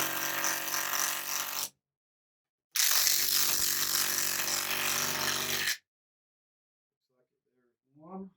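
Klein BAT20-CW brushless compact 1/2-inch drive impact wrench driving lag bolts into a 2x6 with no pre-drilled holes, two loud sustained bursts of rapid hammering, the second longer, separated by silence, followed by a brief faint voice.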